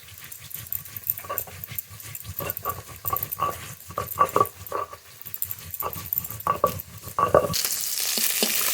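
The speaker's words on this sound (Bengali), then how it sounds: "এই মাছগুলো ভাজা হয়ে গেছে নামিয়ে নেব" Bata fish fries in oil amid irregular clatter and popping, with utensil knocks spread throughout, before a loud, even sizzle takes over near the end.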